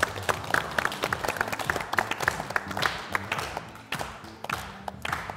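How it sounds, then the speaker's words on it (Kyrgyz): A studio audience at a family game show claps together, producing a steady run of close, sharp hand claps that keeps going with little variation. "Кол чабуулар болсун."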